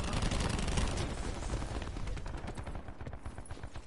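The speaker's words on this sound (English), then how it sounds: "Shots fired!" Rapid gunfire in a video game pours out as a dense, loud barrage of overlapping shots. It thins slightly into separate cracks toward the end.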